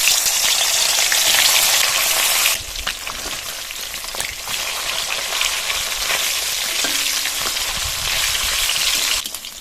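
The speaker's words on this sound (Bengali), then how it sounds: "গরম তেলে মাছ দিয়ে দেবো।" Fish sizzles loudly in hot mustard oil in a heated pan, a dense continuous frying hiss that drops slightly after a few seconds, then crackles steadily close up with no talking.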